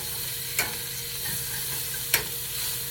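Food frying in olive oil in a pan, a steady close sizzle with two short sharp clicks or stirs, no talking.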